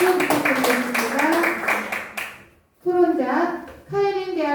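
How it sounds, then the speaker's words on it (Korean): A small group claps for a graduate-student discussant at a Korean academic seminar rehearsal. A couple of seconds of sharp, fairly close hand claps mix with voices, then the clapping stops and clear speech follows. "큰 박수 부탁드리겠습니다"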